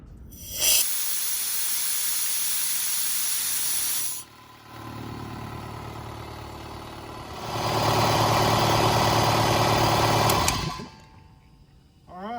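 An air compressor with a newly fitted pop-off valve bleeds off pressure in two loud sustained hissing bursts, broken by a lower engine-like running drone, then cuts off abruptly near the end.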